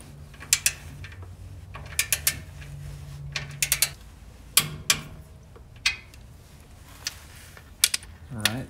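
Ratchet torque wrench tightening exhaust clamps on a BMW E92 M3 with a Borla Atak exhaust: several short bursts of close, crisp ratcheting clicks with pauses between, a faint low hum underneath.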